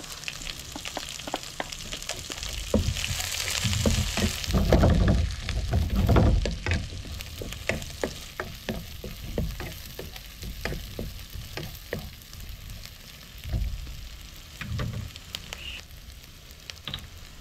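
Small onions frying in a pan of beef bistek, a steady close sizzle with crackles and spatters, rising louder for a few seconds as they hit the hot oil, then settling to a softer hiss.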